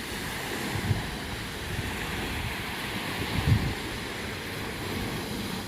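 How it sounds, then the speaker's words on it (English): Sea waves wash onto the shore at a fishing spot, a continuous soft surf with two gentle swells of crashing water, mixed with wind buffeting the microphone and no one speaking. "the waves crashing."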